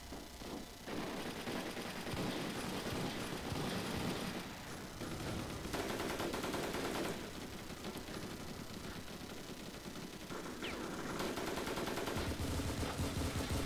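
Sustained rapid gunfire from a weapon in the War Inc Battlezone game, dense automatic bursts crackling almost continuously with only brief lulls, loud and close throughout.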